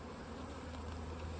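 Honey bees swarm around an open hive, making a steady, low droning buzz that holds evenly and fairly faintly through the whole moment.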